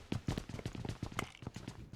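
Rapid, uneven thudding steps on a hard hollow roof in PUBG Mobile, close by, with a faint voice underneath.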